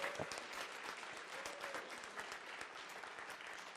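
At the Red Bull Kumite 2021 Tekken 7 grand finals, the event audience applauds the competitors with continuous, dense clapping and some crowd noise, strongest at the start and then holding steady.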